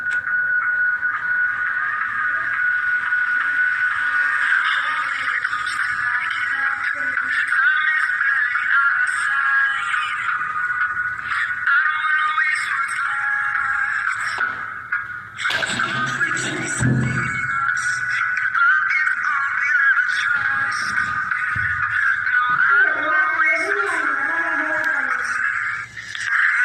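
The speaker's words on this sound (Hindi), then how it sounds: "म्यूजिक को प्ले कर देता हूँ और अभी आप यहाँ पर सुन सकते हो।" Music plays through the small built-in speaker of a T800 Ultra smartwatch, a thin, steady midrange tone running continuously for the whole stretch with a brief dip partway through, fairly loud and without any talk over it.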